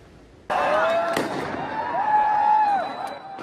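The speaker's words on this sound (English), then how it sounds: "Grainy pictures show fireworks being thrown into the crowds" Fireworks thrown into a dense crowd on New Year's Eve in Cologne burst and crackle loudly, with whistling rockets and a steady roar of crowd noise that sets in abruptly and continues throughout.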